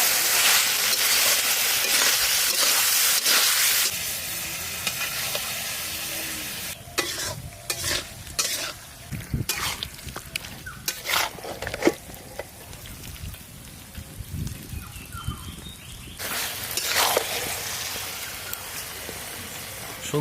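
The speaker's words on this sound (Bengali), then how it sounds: "জবরদস্ত করে কষাও" Chicken curry masala being stir-fried in a pan in a village-style kitchen: loud continuous sizzling at first, then bursts of sizzle and scraping stirs with quieter gaps, then a final sizzling flare.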